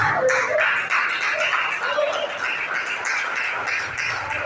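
A church congregation claps together during a women's worship service, a dense, steady patter of many hands that fills the space, with faint voices or tones underneath.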